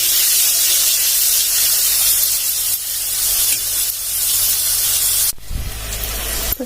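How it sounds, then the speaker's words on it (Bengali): Pointed gourd (potol) fries in hot oil, giving a loud continuous sizzling hiss that stays steady for several seconds before a clunk of the pan near the end. "আগে পটলগুলো ভালো করে ভেজে নিই তারপর আবার ওগুলো থাকবে"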